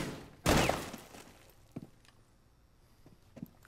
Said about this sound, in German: Mach die Falle kaputt, schieß auf die Falle.